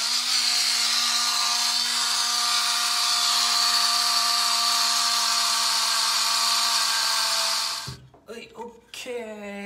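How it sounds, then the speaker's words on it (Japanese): A rotary tool carving texture into the polymer grip of a Tokyo Marui Glock 17 Gen4 airsoft pistol: a steady, high-pitched motor whine with grinding for about eight seconds, then it stops and someone speaks briefly. "まあ、リューターで、ちょこちょこ削っていきます。"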